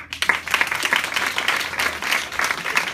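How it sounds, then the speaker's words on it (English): Comedy club audience in Baltimore clapping in response to a stand-up comedian, a full, dense round of applause building quickly and holding steady for a few seconds. "Clap if you are against spanking children."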